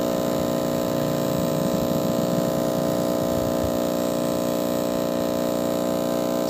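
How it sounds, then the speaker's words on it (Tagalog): A hot air machine blows steadily to soften the glue during an LCD replacement on a Vivo Y11 phone, a constant, fairly loud whirring hum with airy hiss that runs unchanged from start to end. "So ginagamitan po natin ng hot air machine para po lumambot yung glue."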